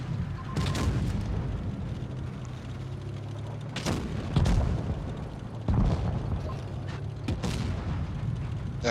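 Tank cannon fire in an online tank battle game: several heavy booming shots at irregular intervals, some close and loud, others more distant, over a constant low engine rumble.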